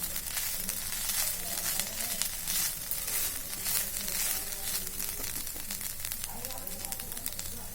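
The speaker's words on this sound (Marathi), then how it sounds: "आता आपण खोबरं परतून घेऊया ओलं खोबरं आहे परतून घेऊया आपण" Fresh grated coconut sautés in a pan as modak filling, making a continuous close sizzle with soft crackling and stirring throughout.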